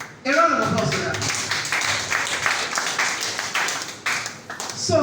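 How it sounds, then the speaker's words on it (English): A small crowd claps for a former boxing champion at a sports equipment donation event, a burst of applause lasting several seconds, close and fairly loud, with speech underneath. "A round of applause for that."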